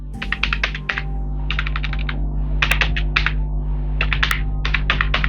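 Typing on a computer keyboard, entering an address: quick clustered bursts of crisp key clicks in short runs with brief pauses, close and clear over a low steady hum, with no talk.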